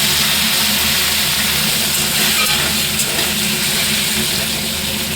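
Tomato and slit green chili fry in plenty of ghee in a pan, giving a steady, loud, close sizzle that holds without pause throughout.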